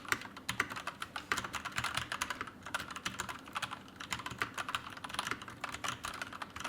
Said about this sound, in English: So one of most important questions about mechanical keyboards, how this keyboard sounds